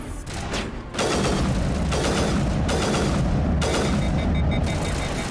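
Sniper rifle fire from Mass Effect Legendary Edition on PC, starting with a brief shot and then a dense stretch of loud, overlapping blasts and rumbling booms that runs unbroken through the rest of the clip.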